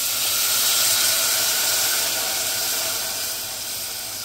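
Food dropped into hot tempering oil for a Bombil rassa curry with okra sizzles loudly, a steady close hiss that fades slightly toward the end, with no voices.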